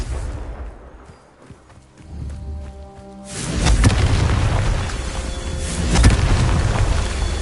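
A Confringo spell in Hogwarts Legacy bursts into a loud, deep boom after a quieter stretch, its rumbling blast sustained and swelling again briefly toward the end, with no talk over it.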